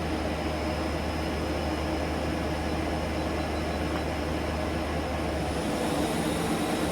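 An Okuma Genos L300E-MY CNC lathe from 2014 with its spindle running at speed, producing a steady, dense machine hum and whine that holds unchanged throughout, with no speech.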